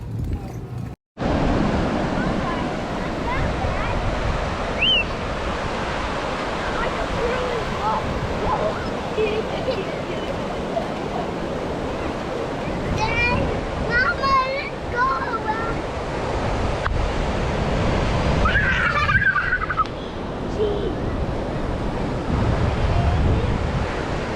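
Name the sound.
ocean waves at a beach, St Augustine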